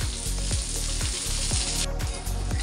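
Prawns (kolambi) frying in a pan, a steady close sizzle with rhythmic low thumps and a bright hiss that cuts off abruptly near the end, no voices.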